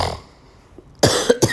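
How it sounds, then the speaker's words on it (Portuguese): A person coughs in a short burst of two or three harsh, close coughs after a quiet pause, set off by laughing. "Só de começar a rir já começa a tossir essa desgraça"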